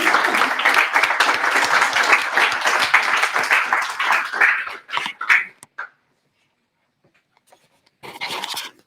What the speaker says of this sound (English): So please let's give them all a hand for the people who are here.